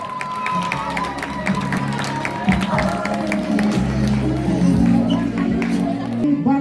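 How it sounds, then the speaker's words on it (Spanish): Applause and cheering from a crowd at a children's coronation pageant, clapping and scattered whoops mixed with chatter and background music, moderately loud throughout. "Damas y caballeros, por favor, un aplauso."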